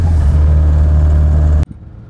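A car engine held at about 4,000 rpm gives a loud, strained, rough drone close by, then cuts off abruptly into near quiet.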